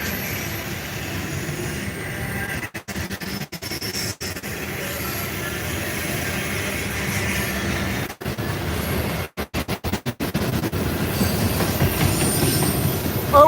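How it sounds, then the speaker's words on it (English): A freight train with distributed power locomotives rolls steadily past nearby, giving a loud continuous rumble with rhythmic wheel clicks over rail joints and squealing wheels, and it grows louder toward the end. "This is not going to be a super long train because the DP already went by."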